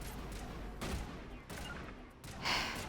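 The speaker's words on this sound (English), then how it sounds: "Y'all are literally shooting at nothing." Gunfire in the Mass Effect video game comes as dense, continuous bursts of shooting with a few louder volleys, all at a fairly even, busy level with no clear talk.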